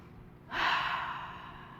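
A single deep breath drawn in during a yoga low lunge, a soft airy inhale that starts suddenly, swells close up and then slowly fades.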